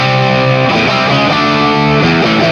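An electric guitar played through a TC Electronic Nova System on a Marshall JCM 800-style distortion preset, giving a loud, saturated tone with sustained chords and short note changes, heard alone.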